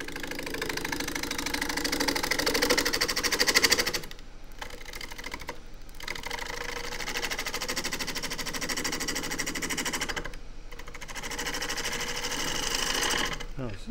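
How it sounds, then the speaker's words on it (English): A 3/8 deep fluted bowl gouge strips bark from wet wood spinning on a lathe for a natural edge tripod bowl: a loud, continuous buzzing cut with short pauses where the tool lifts away. "And I will do that with a 3/8 deep fluted bowl gouge."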